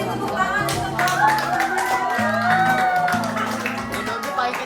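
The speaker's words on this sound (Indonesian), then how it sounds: "kita beri tepuk tangan untuk kelompok" A classroom of students claps for a student group, a lively burst of hand claps and taps close by, mixed with overlapping voices and chatter.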